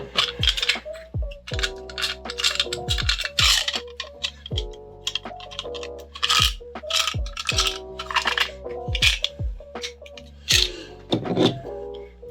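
Small ducky dice being handled and rolled, giving a string of sharp, close plastic clicks and clattering rattles in quick bursts separated by short pauses.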